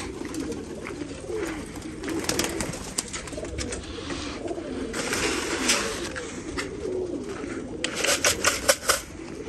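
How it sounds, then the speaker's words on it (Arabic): Pigeons coo from a rooftop, with soft repeated low calls and occasional wing or rustling bursts, moderately close against a quiet background. "اكو طيور صراحة شباب"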